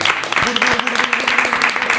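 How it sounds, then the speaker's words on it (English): A small group claps in a podcast studio, loose and uneven hand claps mixed with murmured voices and chatter over the top. "Give yourself a round of applause."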